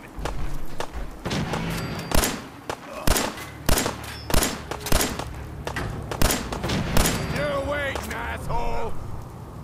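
Pistol fire in Fallout 4, a string of loud, sharp single shots at uneven intervals, some in quick pairs, with thuds and scattered impacts between them and people talking over the action.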